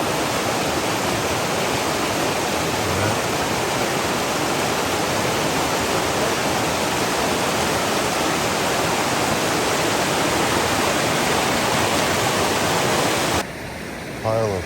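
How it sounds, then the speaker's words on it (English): A river flows along a shoreline at a gold claim on Ruby Creek, a loud, continuous rushing wash of water that fills the whole stretch without a break until a brief drop near the end. "Here's another view of the river."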